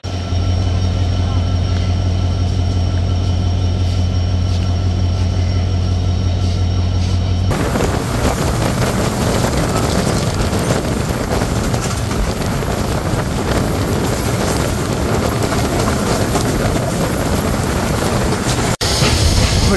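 The Titumir Express, a Bangladeshi passenger train, pulls into Joypurhat station: a steady low hum gives way to loud, broad rushing and rattling of wagons that continues to the end, with wind buffeting the microphone.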